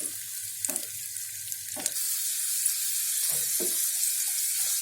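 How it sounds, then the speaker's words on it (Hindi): Dried fruits and nuts fry in hot oil, giving a constant airy sizzle with a few sharp clinks and stirring knocks early on, close and even, with no one speaking. "ऑयल गर्म हो चुका है, अब हम इसमें मेवा डाल देंगे और इसको ब्राउन होने तक फ्राई करना है"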